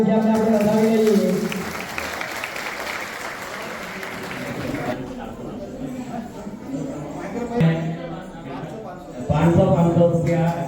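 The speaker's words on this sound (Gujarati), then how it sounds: "તે બદલ જોરદાર તાળીઓથી આપણે વધાવી લઈએ." An audience at a senior citizens' forum celebration in Nadiad gives a burst of applause for about five seconds after a dance, then a voice takes over, speaking into a microphone.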